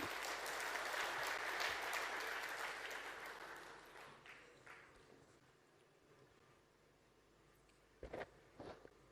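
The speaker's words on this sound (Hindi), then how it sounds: "पूरे प्रदेश भर के किसान इस समय माननीय मुख्यमंत्री जी का जोरदार तालियों से स्वागत कर रहे हैं" A large crowd of farmers at a public event applauds the Chief Minister, a steady wash of clapping that gradually fades before a few isolated loud knocks near the end.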